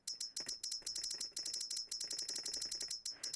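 Rapid, steady typing on a computer keyboard, with dense clicking keystrokes in quick bursts and brief pauses, close and clear with no voices.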